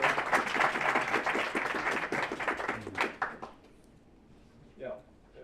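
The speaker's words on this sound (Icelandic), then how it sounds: "Ég ætla að klappa aðeins fyrir honum" Audience clapping after a presentation at a company stock-market listing event, a steady dense burst of applause that tapers off after about three seconds, followed by a brief spoken remark.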